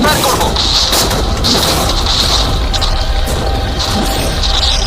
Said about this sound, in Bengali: দেখো, এবার আমরা ট্যাঙ্কগুলো দিয়ে র্যাপিড ফায়ার করব।